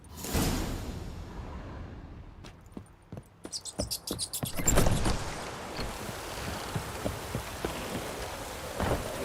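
Rain falls in The Witcher 3 video game as a steady hiss of drops, broken by a run of sharp clicks and swishes midway, with no voices over it.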